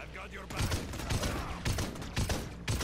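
Gunfire in the Paladins online shooter, with dense, punchy bursts of shots fired in quick succession and repeated several times over busy game sound effects.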